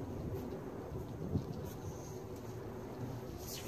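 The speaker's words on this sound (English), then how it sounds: "It's for some reason raining a little less harder now." Steady rain falls outdoors, a dense even patter with a soft gust-like rumble running beneath it, continuous and fairly quiet throughout with no voices.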